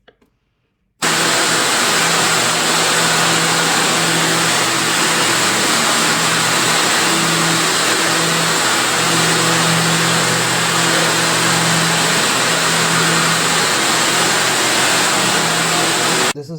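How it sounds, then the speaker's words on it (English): An elastic looming and binding machine in an underwear factory kicks in abruptly and roars on, a loud, dense mechanical whir with a steady rhythmic hum underneath, close and continuous with no talking. "this is the looming and binding machine"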